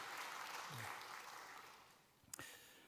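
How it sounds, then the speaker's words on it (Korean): A congregation at a Wednesday church service applauds its worship team in a soft, fairly distant patter, with a sharp knock near the end. "우리 찬양 인도하시는 분들 그래서 박수하겠습니다."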